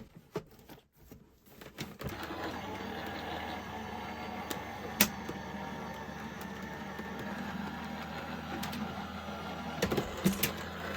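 A Sizzix 3D die-cutting machine feeds a cutting plate and magnetic shim through its rollers, giving a steady mechanical grinding rumble that runs for several seconds at close range, with a few small clicks and knocks along the way.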